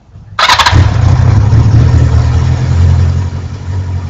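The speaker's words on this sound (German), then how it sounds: "nachdem ich jetzt die Leerlaufdüsen erneuert habe, klingt das Motorrad so an." A Yamaha XJ 600 motorcycle with freshly renewed idle jets cranks briefly, then catches. It settles into a loud, steady, close-up idle.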